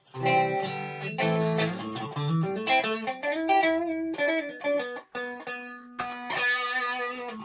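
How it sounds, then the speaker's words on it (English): An electric guitar played through a distortion effect rings out in loud, sustained chords and single notes with dense, gritty harmonics, shifting every second or so and ending on a bright held chord. "Distortion!"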